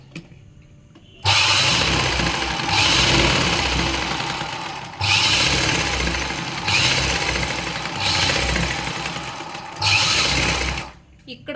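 Sewing machine stitching a folded coat collar, running in loud close bursts of rapid whirring with short pauses between runs.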